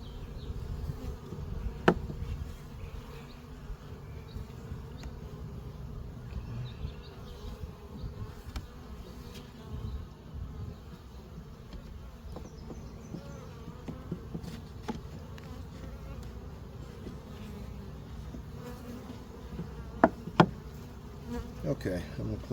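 Bees buzz steadily around an open beehive during an inspection, a dense low hum that runs throughout at moderate level, with a few sharp knocks of frames and equipment now and then.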